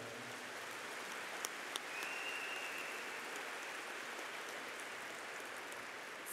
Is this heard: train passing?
no